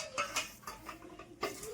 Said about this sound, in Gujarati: તો જો અંદર બટાકા વઘારે છે